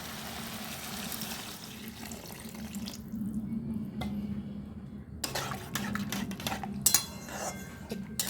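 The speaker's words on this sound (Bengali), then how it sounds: "এরপর আমি একটু জল দিয়ে দেবো।" Water pours into a pan of chilli paneer: a running, splashing stream picks up after a quieter stretch, with a few clinks of utensils and cookware close by. No speech.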